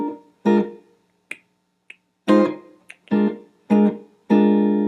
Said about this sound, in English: if you're comping the blues with these chords, you get a sound like this